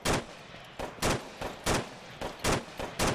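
Arma 3 gunfire crackles in a multiplayer co-op firefight, with about eight sharp shots spaced at a steady, rhythmic pace, moderately loud and free of talk.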